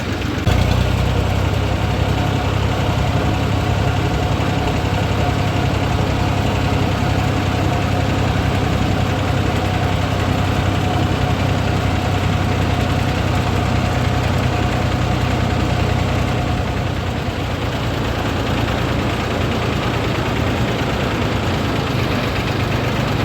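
A tractor engine idles steadily and loudly up close, a continuous low rumbling drone with a faint knocking pulse that barely changes across the whole stretch, with no talking.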